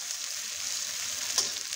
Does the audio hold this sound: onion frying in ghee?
yes